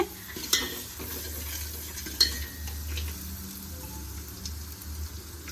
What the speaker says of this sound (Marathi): आणि हे कांदा होत आहे थोडंसं गरम